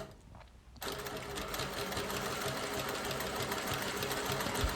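A sewing machine stitches the handle of a square fabric basket with a round base, starting abruptly after a moment of near silence and then running in a steady, fast, close mechanical whir with rapid needle clatter.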